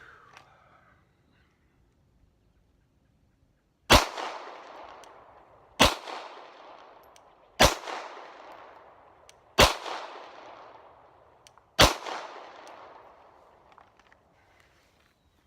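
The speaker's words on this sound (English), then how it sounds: "So top left circle, 5 shots in there for a perfect group." Five sharp handgun shots fired at a target circle, evenly spaced about two seconds apart, each loud crack followed by a short decaying echo across an otherwise quiet range.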